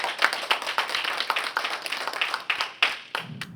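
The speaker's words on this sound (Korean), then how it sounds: "박수 환영해 주시기 바랍니다" A small lecture audience claps for a few seconds, steady and fairly close, welcoming the final speaker, then the applause quickly fades out.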